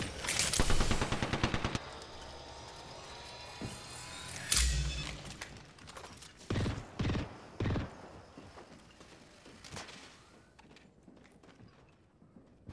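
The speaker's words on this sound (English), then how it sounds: "They're shooting at me." Apex Legends gunfire rattles in a dense burst at the start, then a heavy impact and several separate loud shots follow amid game noise, with a brief voice near the end.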